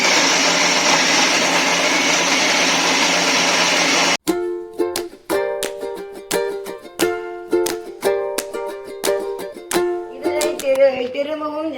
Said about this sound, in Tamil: திரும்பவும் ஜாரில் போட்டு அரைத்து வைத்துக் கொள்ள வேண்டும்.